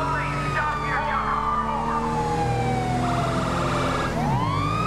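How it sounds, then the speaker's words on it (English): Police sirens wailing and yelping during a pursuit in the GTA V LSPDFR police video game, loud and close, with the siren pitch sweeping and switching patterns over steady engine and traffic noise. "Oh, I hear sirens."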